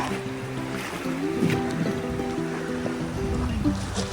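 Steady engine drone of a small boat on Lake Wolfgangsee over lapping water and wind outdoors, a continuous hum with a faint splash or two.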